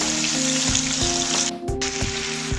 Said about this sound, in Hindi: सील करना है। अच्छी तरह से हम भूनेंगे।